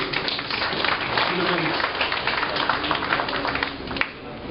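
An audience at a launch ceremony applauds in a steady, dense clatter of many hands that holds for several seconds, then eases slightly at the end.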